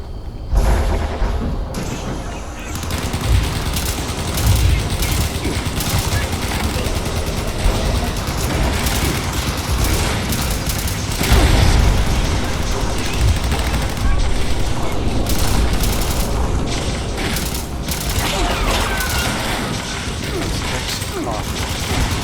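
Missile strikes and gunfire in Fallout 76 roar in a dense, continuous barrage of explosions, rapid shots and mechanical clatter, loud and sustained throughout.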